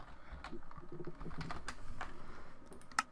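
Keys clatter on a computer keyboard in a quick, uneven run of light taps, close and fairly quiet, ending with one sharper keystroke.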